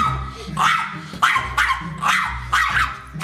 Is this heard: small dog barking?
yes